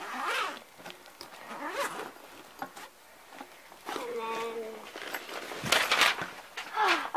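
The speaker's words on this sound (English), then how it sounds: "See these zippers? You have to undo them." Zippers on a laptop bag are pulled open in several rasping strokes of varying length, close and fairly loud, mixed with rustling and handling noise.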